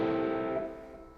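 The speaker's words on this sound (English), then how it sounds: "this is a uke plugged into a little box that has some effects in it." Ukulele plugged into a small effects box, a single sustained distorted strum that rings out and fades over about a second.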